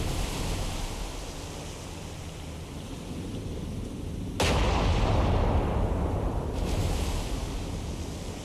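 Naval gunfire booms from a World War II-era battleship battle in War on the Sea, a heavy blast abruptly lifting a steady roar of sea and wind, followed by a second, fainter report.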